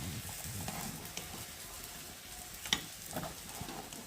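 Khichuri stirred in a pan, a faint low sizzle with scattered soft scraping strokes and one sharper clink of the spoon.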